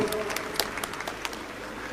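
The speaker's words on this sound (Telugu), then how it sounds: "అందరూ గట్టిగా చప్పట్లు కొడదామా?" An audience claps loudly in a church hall to welcome a bishop, a dense steady patter of hands running through the whole moment with scattered sharper claps standing out.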